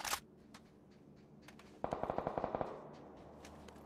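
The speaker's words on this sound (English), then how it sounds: "I'm shooting." A burst of automatic gunfire rattles out in PUBG, about ten rapid shots fired in quick succession after a few scattered distant pops, with a quiet hum of game ambience around them and no voices.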